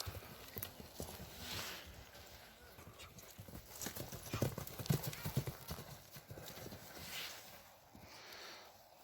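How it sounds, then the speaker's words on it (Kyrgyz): A Don horse used for ulak is galloped, its hooves clip-clopping in a quick, rhythmic run that passes close and then drifts. Faint voices sit in the background. "Азыр атты бир чаптырабыз"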